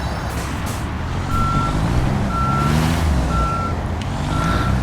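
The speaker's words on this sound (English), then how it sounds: "we're going to need our truck and trailer" A truck in the Construction Simulator video game reverses with four evenly spaced electronic warning beeps over a loud, steady diesel engine rumble, no talking.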